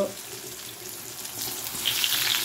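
Sweet pumpkin pieces fry in a pan with a continuous close sizzle that grows louder and crackles toward the end.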